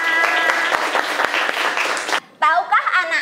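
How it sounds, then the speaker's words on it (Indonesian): Children and their teacher clap together in a classroom after a game, a busy burst of uneven hand claps mixed with voices that cuts off abruptly, followed by a moment of quiet and then speech. "tepuk tangan untuk kita semua."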